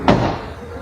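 A Hyundai Venue facelift 2022 car door shut once, a single loud solid slam with a short low thud that quickly decays, close up and alone.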